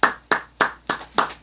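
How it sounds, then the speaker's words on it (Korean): A church congregation claps together to give glory to God, five crisp unison claps in an even rhythm, close and fairly loud, with no voices over them. "우리 하나님께 영광의 박수를 한번 드립시다"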